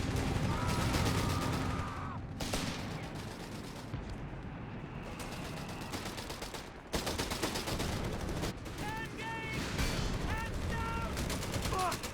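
Rapid bursts of gunfire and explosions in the Company of Heroes 3 strategy game, loud and nearly continuous, with game voice lines shouting over the combat throughout.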